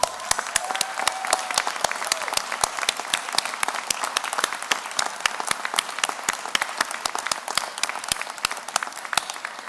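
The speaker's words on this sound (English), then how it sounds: "So if our new graduates can stand, and we will give them, your friends and family, a round of applause." At a university graduation, graduates clap for their friends and family. A fairly small group produces sharp, distinct, closely spaced claps that continue steadily throughout at moderate loudness.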